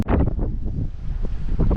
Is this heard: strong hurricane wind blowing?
yes